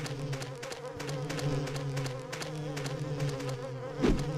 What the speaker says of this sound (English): Go away, bugs.